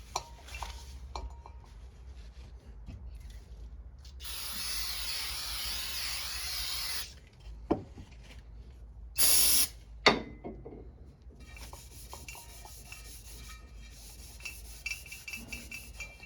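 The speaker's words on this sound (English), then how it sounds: "clean any belt dust off of it, and then I'll go in for a scrub." Cleaning belt dust off a Polaris Ranger 900XP clutch part, with a long rough scrubbing rub, a brief sharp spray burst and scattered scraping and clinking handling noises close by in a quiet workshop.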